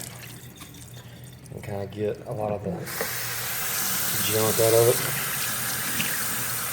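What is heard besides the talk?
rinsing aquarium filter mechanical media under running water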